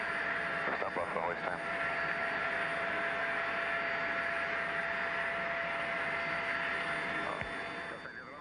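A Sea King helicopter hovers during a winch hoist at sea, its rotor and turbine drone steady and loud throughout, with a constant whine and brief radio-like voices over it.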